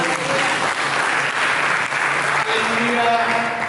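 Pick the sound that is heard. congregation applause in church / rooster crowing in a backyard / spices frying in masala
congregation applause in church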